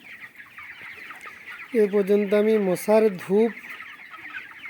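A dense flock of about 5,000 broiler chickens, 25 days old, fills a poultry farm with a constant murmur of clucking while someone speaks nearby over it.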